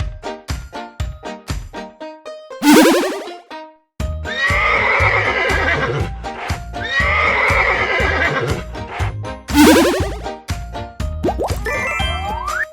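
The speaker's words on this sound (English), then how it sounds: "Horse." A horse gives two loud, rising-and-falling whinnies among steady clip-clop hoofbeats and light jingling, all close and clear, with no talk.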